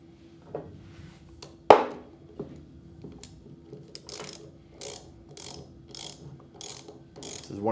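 An inch-pound torque wrench ratchets while tightening parts on a CAT 3DX29GSI pressure washer pump, giving a sharp metallic clunk followed by a steady series of crisp clicks, close and alone.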